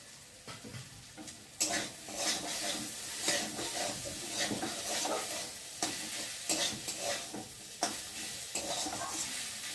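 Bitter gourd fries in a home-kitchen pan as part of a mustard-based recipe, sizzling softly while a spatula stirs and scrapes in repeated bursts.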